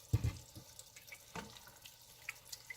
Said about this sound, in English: I'm going to add a cup of water to this.